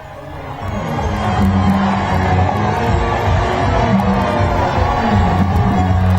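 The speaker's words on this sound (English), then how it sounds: "You can hear music and cheering." A dense street crowd in Angola cheers and shouts for the Pope's arrival, a steady roar of voices blended with music, loud and sustained throughout.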